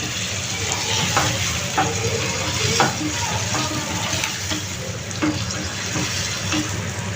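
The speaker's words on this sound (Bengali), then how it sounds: "এখন আমি এর মধ্যে পানি দিয়ে দিচ্ছি বসানোর জন্য আমি পানিটা দিয়ে দিলাম" Water goes into a sizzling pan of bata fish and vegetable curry. A loud, steady frying hiss runs throughout, with soft scrapes and clicks of stirring.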